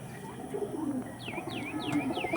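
Pigeons coo in a steady low murmur while sharp, repeated chirps sound above them, close by and fairly loud.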